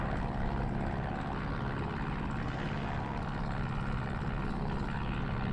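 A Christen Eagle propeller aircraft in the DCS flight simulator drones at full power during a takeoff run, a steady loud engine roar with no pauses.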